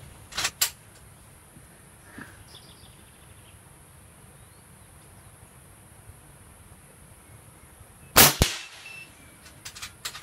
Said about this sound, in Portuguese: Vou atirar aqui com cabeça tripla, enchi um magazine, 5 tiros.